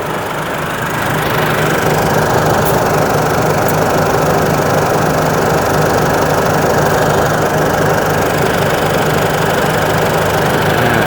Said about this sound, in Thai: เสียงเครื่องยนต์นะครับนิ่งเงียบๆนะครับผม